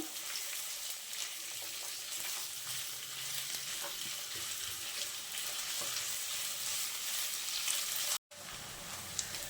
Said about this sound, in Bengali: এখন আমি কেটে রাখা পেঁয়াজগুলো দিয়ে দিচ্ছি। পেঁয়াজগুলো আমি কিছুক্ষণ নেড়ে চেড়ে ভেজে নেব।